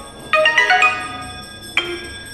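A Vivo T1x phone plays a short system ringtone: a bright cluster of chiming tones, then a single clear chime a moment later, loud and close with no talk.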